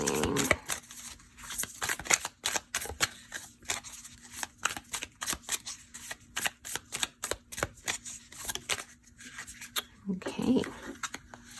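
Tarot cards being shuffled during a reading, with a rapid series of crisp riffling slaps and soft rubbing clicks close by, carried on steadily through the stretch with a few brief pauses and faint voice sounds.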